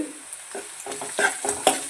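Chopped onions sizzling in hot oil in a pan for brinjal gojju while a spoon stirs them, with soft scraping strokes over a steady close frying hiss.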